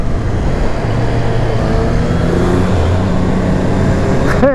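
Triumph Street Triple 765 RS, a 2020 motorcycle, revving its engine in a few hard accelerations, a loud steady roar with rising and falling pitch, close up and with no talk.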